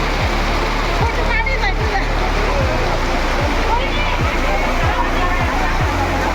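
Heavy monsoon rain pours down steadily outdoors under a tented mandap where bhakri flatbread is being cooked for pilgrims, a dense continuous wash with low rhythmic thumps, and voices speaking over it.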